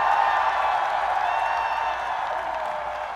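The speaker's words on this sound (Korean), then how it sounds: "큰 박수와 함성 부탁드립니다" Crowd applause and cheering at an outdoor political campaign rally in Yeouido, Seoul, a dense sustained roar of clapping and shouts that slowly fades slightly over a few seconds.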